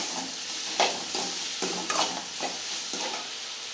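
Onions, tomatoes and brinjal sauté in a pan for mango sambar: a continuous close sizzle with several distinct stirring strokes of a spoon scraping through the vegetables at a slow, irregular pace, without any voices.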